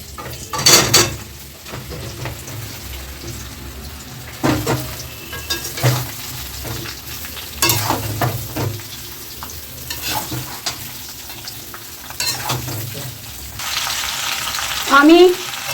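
Raw mango pieces with mustard oil and five-spice seeds in a wok give off a steady sizzle and fry, broken by scraping stirs and metallic clatter of a utensil against the pan, close and fairly loud.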